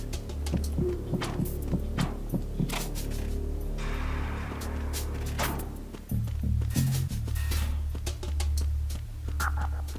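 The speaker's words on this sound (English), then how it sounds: "there's an enemy getting close to me because I hear my heartbeat" Heartbeat warning signalling a nearby enemy in Metal Gear Solid, a low, regular thumping pulse running steadily under music and game effects.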